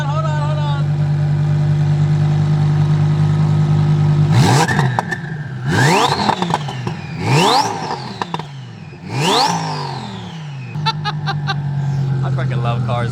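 A turbocharged GR86/BRZ car engine drones steadily, then revs four times in quick bursts with a rising whine before returning to a steady drone. Voices can be heard in the car.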